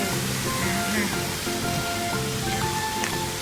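Steady flowing water running into a backyard turtle pond, a continuous close rushing splash like a small waterfall, with faint voices and background sounds underneath.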